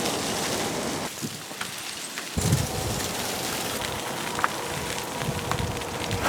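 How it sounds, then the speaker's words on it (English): Heavy freezing rain pours down continuously in a dense hiss, with a few louder drips and splatters standing out against the steady downpour. "we are getting absolutely blasted with freezing rain"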